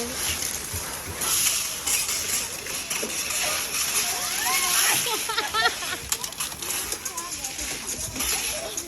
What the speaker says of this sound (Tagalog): It's a shower.